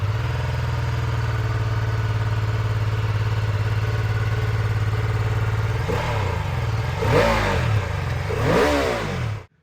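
A BMW F 450 GS parallel-twin motorcycle engine idles steadily up close, then is blipped through two sharp revs that rise and fall before cutting off.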